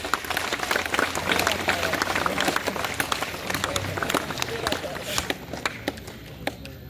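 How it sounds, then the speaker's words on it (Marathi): Audience clapping for students at a Republic Day school program, a dense steady patter of many hands filling the hall, fairly loud and sustained before thinning out toward the end. "सर्वांनी या सर्वांसाठी जोरात टाळ्या वाजायच्या आहेत"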